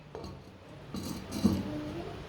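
A lid is set onto a clay cooking pot holding simmering goat meat, a single dull clink close by over faint kitchen background, with no talking.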